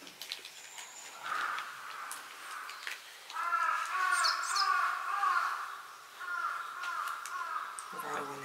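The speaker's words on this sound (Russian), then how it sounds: "Вороны летают, и птички поют, да? А вороны кар, кар, кар." Crows caw among chirping birds outdoors at Hitsujiyama Park in Chichibu, a few harsh calls in the middle distance while people talk nearby.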